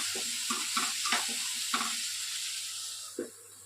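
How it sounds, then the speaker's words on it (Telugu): Onions fry in a pan for a brinjal and tomato curry and are stirred, giving a steady sizzling hiss with a few soft scraping knocks of the spoon, then a final tap as the sizzle settles. "మనం టమోటా కట్ చేసేలోపు ఆనియన్స్ మగ్గిపోతాయండి."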